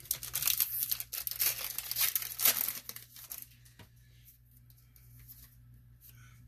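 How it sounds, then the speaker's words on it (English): Pokémon Sword and Shield booster packs being torn open: loud crinkling and ripping of foil wrappers for the first few seconds, then quieter handling rustles, with no talking. "Time to open up some more Sword and Shield booster packs"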